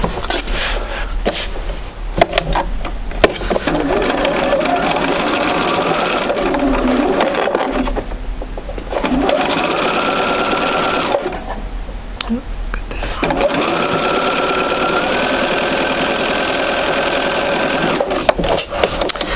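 A sewing machine stitches a quilt block for a sampler quilt, a close, rapid mechanical whir in long runs broken by brief pauses before stitching resumes.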